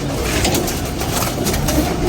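Pigeons kept in a loft coo in low, soft, rolling calls, several birds close by, continuous over a short stretch without speech.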